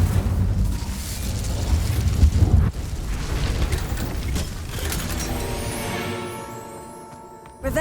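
A fiery spell burst in Hogwarts Legacy, a loud roaring blast with rumbling low crackle that swells and then fades into a ringing decay, ending on a fresh hit.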